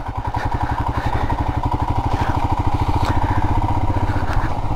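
A Royal Enfield Himalayan motorcycle being ridden on a local road, its single-cylinder engine thumping in a loud, close, steady rapid pulse that persists throughout without talk.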